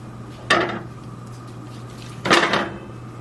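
Ground beef breaking up in a pan on a medium-high flame for lasagna, two bright scraping clatters of a utensil against the pan over a steady low hum, close and fairly loud.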